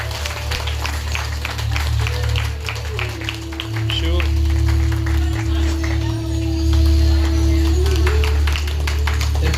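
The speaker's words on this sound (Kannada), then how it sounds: "ಜೋರಾಗಿ ಚಪ್ಪಾಳೆ ಜೋರಾಗಿ" Loud applause from an audience at a fifth-anniversary yoga centre event in Hebbagodi, Anekal, a dense steady clapping that swells louder toward the end, with voices and a sustained tone mixed in.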